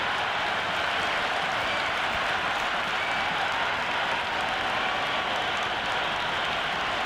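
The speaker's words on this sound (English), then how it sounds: "already the crowd is up and about" Steady roar of a stadium crowd cheering and applauding at a one-day international cricket match, India versus South Africa, in the Cricket 2026 video game on PS5, a dense continuous wash of noise throughout with no talk.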